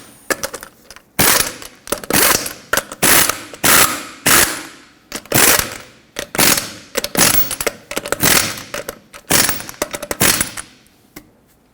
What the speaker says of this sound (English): tighten them to 83 foot-pounds